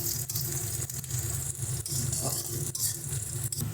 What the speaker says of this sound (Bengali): পেঁয়াজটাকে হালকা করে একটু গোল্ডেন মতো ভেজে নেব।